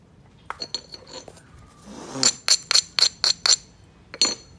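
Stone edge struck and ground during flintknapping to prepare platforms, heard as a run of six sharp glassy clinks in quick succession, close and fairly loud, with a few lighter taps before and one more strike after.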